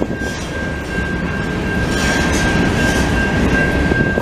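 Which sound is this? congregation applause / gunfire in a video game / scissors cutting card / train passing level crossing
train passing level crossing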